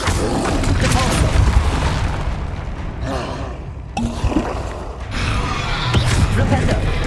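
A Depulso spell cast in Hogwarts Legacy produces loud, dense magical whooshes and booms, with a brief quieter dip midway before the rumbling force effects swell again.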